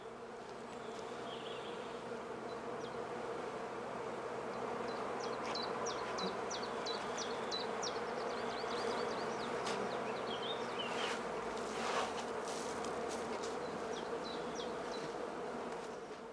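A dense, continuous buzz of many honeybees around straw skep hives fills the air, steady and close, with occasional individual bees zipping past.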